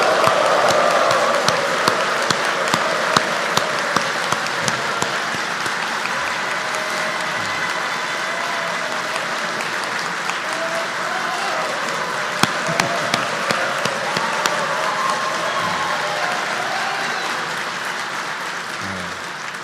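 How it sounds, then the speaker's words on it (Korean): A large crowd of public officials at a Korean new-year ceremony applauds and cheers steadily and loudly for a long stretch, the clapping dense and sustained with scattered sharper claps standing out. "크게 박수와 환호 한번 부탁합니다"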